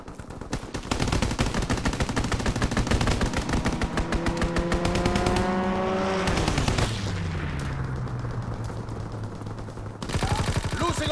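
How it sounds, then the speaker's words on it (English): Rapid machine-gun bursts of a strafing run pound through a Call of Duty WWII multiplayer match, continuous and loud, with a descending whine and explosion and brief game voice lines in between. "Strafing run inbound."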